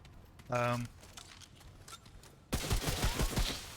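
A weapon fires in the video game Remnant From the Ashes: a short electronic tone, then a quick rattling burst of rapid shots near the end, loud and close.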